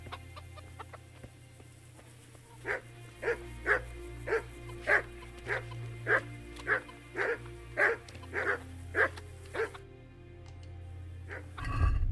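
A dog barks repeatedly in the Kingdom Come: Deliverance video game, about ten evenly spaced mid-loud barks over a low ambient game drone.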